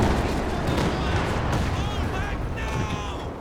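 Rocket artillery from Werfer launchers in Company of Heroes 2, a 4v4 match on Lienne Forest, rumbling as a dense, sustained barrage of blasts and whooshing rockets, loud and continuous with crackling bursts and battle noise throughout.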